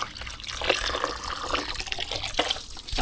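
Water poured over leaves to rinse off mud before feeding them to fish, a steady close splashing and trickling that continues throughout.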